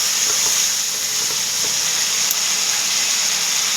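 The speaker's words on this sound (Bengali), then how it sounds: "এবার ভাজা চিকেনটাকে ভালো করে কষাবো এই মশলার সাথে" Pre-fried chicken sautés with spices in a pan, giving a loud, steady sizzle and hiss that continues unbroken with no talking.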